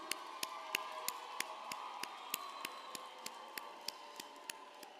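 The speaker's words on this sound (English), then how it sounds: "give them a round of applause for supporting you over the course of your journey" Graduation ceremony audience of families and supporters applauding, with sharp claps in a steady rhythm over a murmuring crowd, moderately distant.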